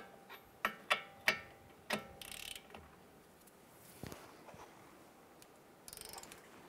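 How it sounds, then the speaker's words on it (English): A torque wrench tightens the strut-to-knuckle nuts on a 2012-2017 Toyota Camry to 214 foot-pounds, giving several sharp, close ratcheting clicks in a quick series, then a few scattered clanks and short rattling bursts. "We're going to torque down our strut to knuckle nuts here to 214 foot-pounds."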